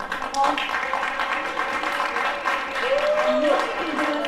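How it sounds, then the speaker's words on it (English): Crowd applause at a Holi festival at Sri Ganesha Temple in Berlin, a dense patter of many hands clapping throughout, with some cheering tones rising over it. "I would like to hear a loud applause for all of us"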